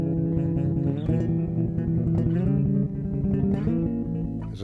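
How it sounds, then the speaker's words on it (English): Old piano sounding diminished chords, dense sustained harmonic tones that shift chord every second or so, played continuously and fairly loud with no talking. "you'd hear an old piano in the background going."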